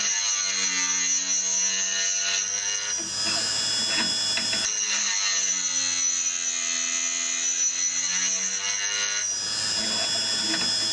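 CUTTERMASTERS CS 5H combination drill and end mill sharpener running steadily with a loud, continuous motor whine and harmonic hum, broken by rougher grinding bursts around each pass as a bit is sharpened, close and without talk.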